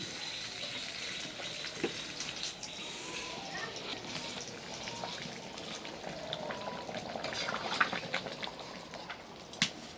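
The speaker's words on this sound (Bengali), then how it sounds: "এখন একটা বলক দিয়ে নামাই নেব।" A pot of bottle gourd curry bubbling at a low boil, with soft steady simmering and scattered pops and clicks, fairly quiet and continuous, with faint household sounds in the background.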